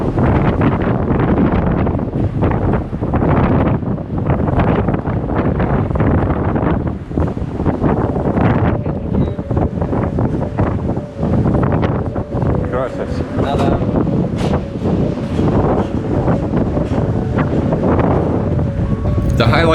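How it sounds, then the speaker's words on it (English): Strong gusting wind buffets the microphone on the suspension bridge of the Caminito del Rey walkway in Spain, a loud, continuous roar that runs unbroken through the whole stretch. "This day is super windy"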